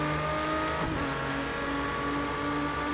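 Steady, loud drone of an 800-horsepower racing truck engine in Project Cars 2, holding a constant roar with slight pitch shifts throughout, no voices.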